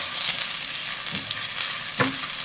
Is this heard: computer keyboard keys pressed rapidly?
no